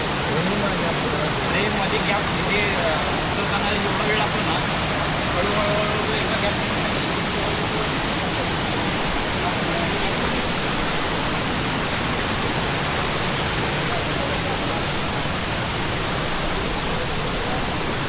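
A stream rushes close by near a waterfall on a trail below Ghangad and Sudhagad, a dense, unbroken roar of flowing water throughout, with a voice faintly under it.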